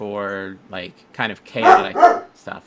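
A dog barks and yips in short bursts close by, mixed in with a person speaking over it in a casual indoor setting.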